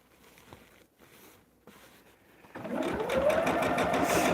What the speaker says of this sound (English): And we're just sewing on the solid line that's already there.